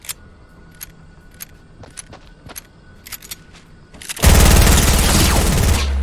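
Gunfire in Fortnite: scattered sharp shots and clicks, then a sudden loud, sustained burst of rapid fire close by.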